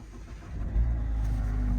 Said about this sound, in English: push button start.